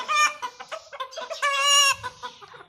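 Roosters clucking and squawking as they start to fight, close and fairly loud, with harmonic crowing-like calls building to a sustained cry in the middle.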